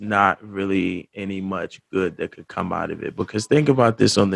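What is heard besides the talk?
No everyday noise stands out behind the speech.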